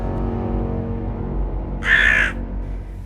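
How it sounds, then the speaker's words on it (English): A single harsh raven caw rings out for about half a second over a low, steady background rumble. "the ravens were making an awful lot of noise, like they are now"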